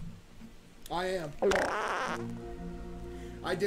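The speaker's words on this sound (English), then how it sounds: "I didn't fart, by the way. That was my chair making a noise." A chair creaks out a single loud, fart-like squeak in the middle of a gaming session, with voices talking before and after the noise.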